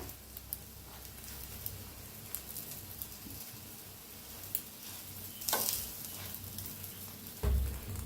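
An egg poli roasts in a little oil on a hot pan with a faint, steady sizzle, broken by scattered small ticks and a few louder scraping knocks.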